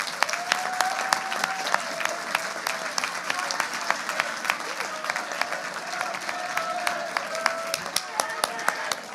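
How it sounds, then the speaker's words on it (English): An audience at a Model UN general assembly closing ceremony applauds with steady, dense clapping for several seconds, close and sustained, with crowd murmur underneath. "You deserve a big round of applause."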